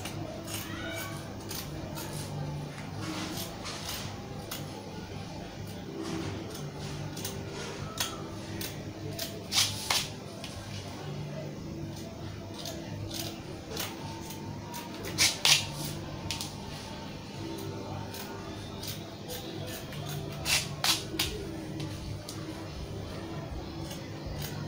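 Fabric being cut for a shoulder bustier dart with scissors, producing scattered sharp snips and rustles at close range over a low steady background hum, with clusters of louder cuts at intervals.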